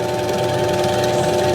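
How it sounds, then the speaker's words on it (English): Electric drill boring a bit straight down through the centre of a sturdy wooden carpenter bee trap block, a steady, loud, continuous motor whine and grinding with no pauses. "we're going to lower the drill bit down"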